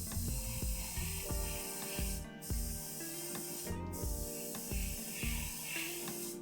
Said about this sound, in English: You'll be constantly fighting against that as you're airbrushing